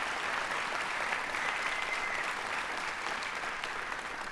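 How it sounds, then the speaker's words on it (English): An audience at a middle school honor band festival gives the band directors a steady, full round of applause, dense crowd clapping that holds evenly throughout with no pause. "the band directors deserve a great applause"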